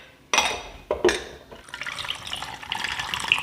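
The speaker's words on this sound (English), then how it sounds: "we're gonna give this a shake" A lemonade and iced tea drink topped with about a quarter cup of water is shaken in a container, giving a few sharp liquid sloshes followed by a steady rattling, splashing churn, close and alone.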